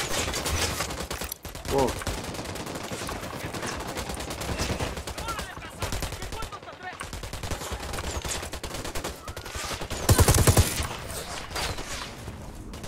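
Gunfire from the video game Tom Clancy's Wildlands comes as dense, loud bursts of rapid automatic shots with heavier blasts, continuing almost without pause, while a player briefly reacts aloud.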